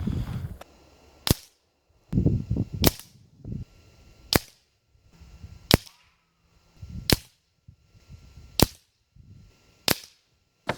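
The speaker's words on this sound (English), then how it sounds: "and then I took a shot and I hit right where I was aiming" Nova Freedom PCP air rifle fired repeatedly at a target: eight sharp, loud cracks spaced roughly a second or so apart, with quieter handling noises between shots and no talking.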